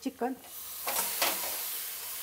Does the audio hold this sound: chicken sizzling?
yes